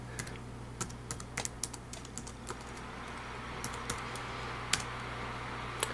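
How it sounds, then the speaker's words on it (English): Computer keyboard keys tapped while entering spreadsheet labels in Excel, the clicks coming in quick irregular clusters with short pauses, close and fairly quiet over a steady low hum. "you type in balance, and you hit your tab button again"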